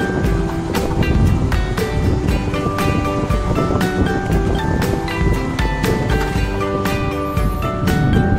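Water pours through a gate at Gohira Dam, Deogarh, in a loud, continuous rushing roar, with scattered splashes and clicks over the steady torrent.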